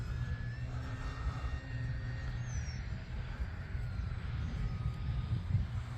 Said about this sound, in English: One thing about this airplane is it comes with a 3S motor, and before I even flew it, I upgraded to the 4S motor